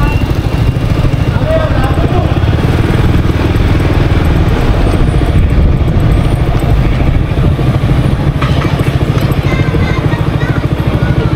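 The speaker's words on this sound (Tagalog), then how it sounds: "Itong problema talaga pag malaking motor, ang hirap i-maneuver." A big motorcycle ridden through the town of Sampaloc, Quezon drones loudly and steadily at close range, its engine constant throughout with no clear gear changes.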